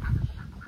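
An old male Muscovy duck on a farm gives a short, low, husky call up close, a brief breathy burst that fades quickly, with ambient farmyard noise behind it.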